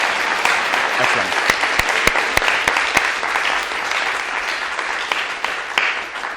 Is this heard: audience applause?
yes